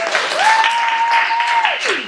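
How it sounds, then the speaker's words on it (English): A keynote event audience applauds a staff member named Megan with loud, sustained clapping, and a sustained whistle-like tone glides up, holds and then falls beneath the applause. "Give a round of applause to Megan."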